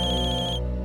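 A phone ringtone sounds loudly and close by, a steady tonal electronic ring with a pulsing high note that cuts off just before the end.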